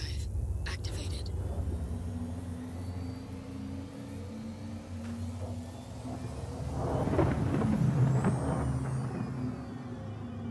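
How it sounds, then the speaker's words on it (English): Star Citizen 600i spaceship in quantum drive travel inside a video game: a steady low droning rumble and whoosh that swells louder near the end, with faint hums, though no speech is evident. "Quantum drive activated."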